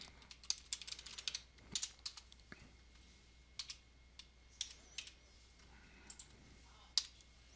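Bursts of keyboard typing, quick clusters of key clicks with short pauses between, close and fairly quiet.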